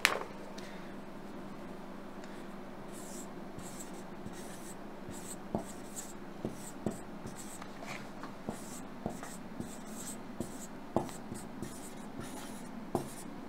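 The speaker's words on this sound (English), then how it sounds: "Okay, so I'm just writing this:" Handwriting on paper gives a soft, steady scratching broken by short sharp taps as strokes begin and end, close and quiet, repeating in irregular bursts across the whole stretch.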